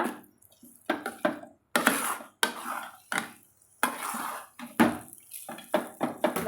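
Spiced kolukattai dough is stirred and sautéed in oil in a pan, giving irregular close scrapes and clatters of a spoon against the pan, separated by short quiet gaps.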